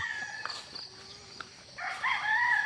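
Hens and roosters at a gamefarm, clucking and crowing in a steady background chorus with a louder burst of calls near the end.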